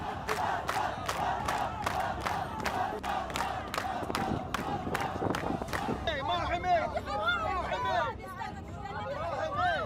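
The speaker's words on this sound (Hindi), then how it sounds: "ये भीड़ हिब्रू भाषा में नेतन्याहू वापस जाओ के नारे लगाने लगी" A large Druze crowd at a protest shouts rhythmic slogans in Hebrew, sharp repeated chant bursts giving way to a dense, loud roar of many voices, close and continuous.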